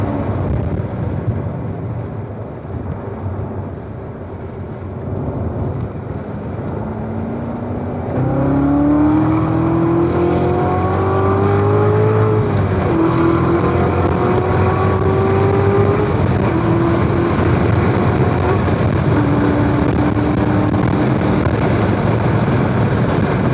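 A Corvette Z06 powering through a corner on a race track, a loud steady engine roar that builds and rises in pitch, with shifting tones over about twenty seconds, no speech.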